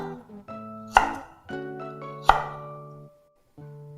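A knife chops carrot for a shrimp and broccoli stir-fry, two sharp separate cuts ringing out over melodic background music.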